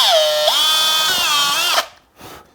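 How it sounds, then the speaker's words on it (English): A power drill fitted with a 2mm bit bores pilot holes into wooden cabinet door stock for hinge screws, giving a loud, steady high whine for nearly two seconds that winds down, followed by a short, softer second burst. "So I'm going to be using a 2mm pilot drill for this, and that will go in those awl marks."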